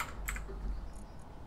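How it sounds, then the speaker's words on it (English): Typing on a computer keyboard while playing Space Engineers: a short burst of quick, light key clicks close to the microphone, followed by a few scattered taps over a quiet background. "Wrong window to be typing that in."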